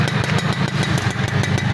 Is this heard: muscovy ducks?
no